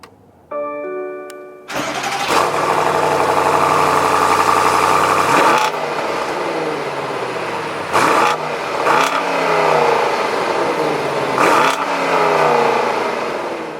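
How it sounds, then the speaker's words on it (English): A 2020 BMW M850i xDrive Gran Coupe V8 fires up with a starter whir and a loud, deep flare of revs, then settles into a steady idle punctuated by a few sharp blips of the throttle. "With my foot on the brake, we'll just go over to the engine start stop button and bring this to life."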